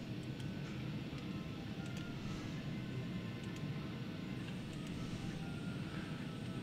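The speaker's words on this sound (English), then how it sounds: "I'm gonna bring the throttles back a little bit here" Cockpit engine noise from a Citation 550 business jet in the Prepar3D flight simulator: a faint, continuous low drone with a soft hiss on top, holding steady throughout.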